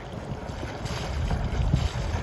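Strong tidal current near Desolation Sound rushes past a small boat, a steady broad wash of moving water mixed with wind noise on the microphone, with no talking.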